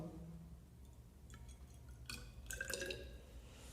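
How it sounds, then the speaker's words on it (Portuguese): Water is poured into a glass laboratory flask, a quiet run of splashing and trickling that grows busier partway through, close by and faint. "Então a gente vai adicionar a água lá no nosso frasco."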